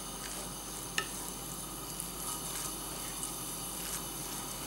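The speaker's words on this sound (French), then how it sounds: "Maintenant je vais bien mélanger le tout." Taco filling sizzles and fries in a pan as it is stirred, a steady close crackle with a few faint scraping clicks from the utensil.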